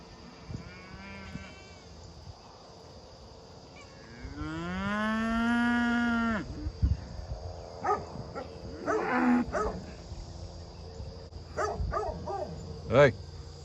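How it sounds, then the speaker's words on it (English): Cattle moo on a farm, one long loud call near the start followed by several shorter, fainter moos, with a person talking now and then. "they're gonna start mooing at me."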